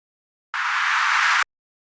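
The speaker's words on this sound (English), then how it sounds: "reverse sound" A reversed sample soaked in reverb swells from silence into a bright, steady hiss-like wash for about a second before cutting off abruptly, used as an effect in an electronic music track.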